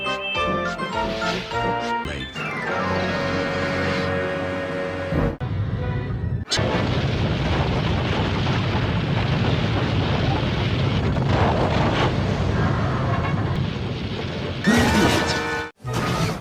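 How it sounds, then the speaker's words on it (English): Trucks slam hard into the buffers in a Thomas and Friends train crash: a sudden loud smash with rattling, tinkling debris after a stretch of music, followed by a sustained noisy rumble. "he banged the trucks hard into the buffers"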